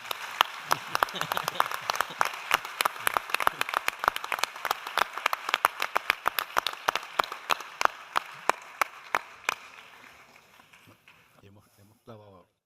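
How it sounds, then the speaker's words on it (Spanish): An audience at a medical talk on gastric ulcers applauds: brisk, loud clapping from a room of people that gradually thins out and fades away. "aprovecho y pido un fuerte aplauso por la buena tarde que nos han hecho pasar"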